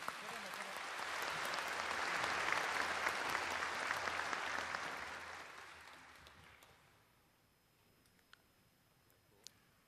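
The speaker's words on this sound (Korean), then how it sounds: "한 사람 한 사람의 빛에 다시 한번 뜨거운 박수 부탁드리겠습니다" Audience applause at a Liberation Day ceremony, a broad swell of clapping that builds, holds for several seconds and then fades away, leaving only a few faint clicks and taps in near silence.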